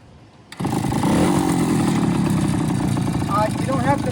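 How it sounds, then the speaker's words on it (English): A 1970 Kawasaki G3TR two-stroke motorcycle with no battery starts with a sudden burst and settles into a steady, buzzy running idle close by, while a person talks over the engine noise. "I'm going to start it up for you."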